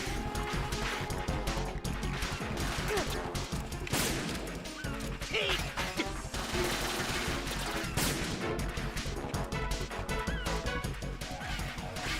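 Dense, continuous gunfire and crashing impacts from a boss fight in the video game Metal Gear Solid 2: Sons of Liberty, loud and unbroken, with no speech over it.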